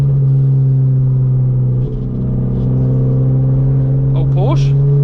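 A loud BMW E36 engine drones steadily from inside the car, a deep constant rumble with a brief dip near two seconds and a rising rev toward the end.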